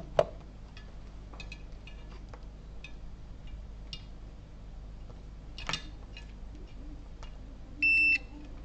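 Quiet workbench clicks and taps while repairing a Favolt PowerBase Pro wireless charging station, then a short, steady multimeter continuity beep near the end, clear against a low background hum.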